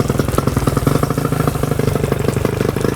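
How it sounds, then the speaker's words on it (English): A restarted 1999 Johnson 25 hp two-stroke short-shaft tiller outboard idles loud and close, with a fast, even, rattling beat that holds steady throughout. "no issues with restarting the engine."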